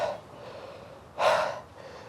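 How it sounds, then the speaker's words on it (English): Heavy, gasping breaths from a person after eating a super hot pepper: an initial exhale, then a loud, sharp intake of air close to the microphone, with no speech. "With the heat and the breathing, it's like hyperventilating."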